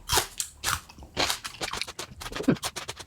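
Crisp, crunchy bites into a raw bell pepper followed by steady chewing, close and loud, with repeated sharp crunches across the whole stretch and no talking.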